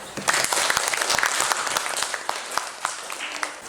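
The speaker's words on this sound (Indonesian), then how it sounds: "Mari kita beri tepuk tangan." Students in a classroom applaud after a group discussion, a lively, continuous patter of many hands clapping close by with individual sharp claps standing out throughout.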